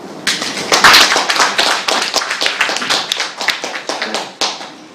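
An audience at a school debate on extracurricular activities gives a round of applause for the debate teams: dense, close clapping that swells quickly, then thins into scattered claps as it fades out.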